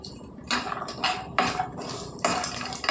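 Cashew nuts are stirred while roasting in a pan, with a spoon scraping and clattering against the metal in irregular bursts every half second or so, close and fairly loud.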